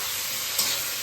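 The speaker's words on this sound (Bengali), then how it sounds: "পেঁয়াজগুলো একটু ভাজা হবে" Onions salted and frying in a pan for fried rice and chicken, a constant close sizzle and hiss with a couple of brief louder crackles, no talking.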